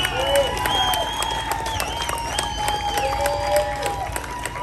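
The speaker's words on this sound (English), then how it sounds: "I'd like you to give him a round of applause" A crowd at a 2022 political rally in Iowa claps and cheers, with scattered hand claps under raised, shouting voices and whoops, loud and fairly close throughout.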